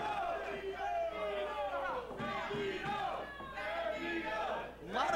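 Wrestling crowd at an independent show chanting for Bandido, a loud, dense mass of voices in rhythmic repeated shouts, filling the whole stretch with near-constant crowd noise.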